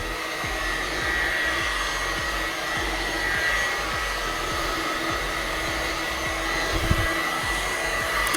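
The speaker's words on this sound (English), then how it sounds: "it's very rare that you see me using a heat gun" Heat gun on a low setting blows a steady airy rush onto poured resin, a constant hum-like hiss holding evenly from start to finish with faint low thumps underneath.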